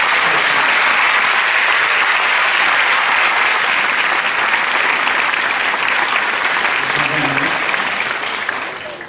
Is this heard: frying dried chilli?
no